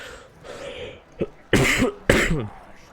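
Two harsh coughs, close and loud, one at mid-clip and another just after, with a faint small cough before them and quiet background otherwise.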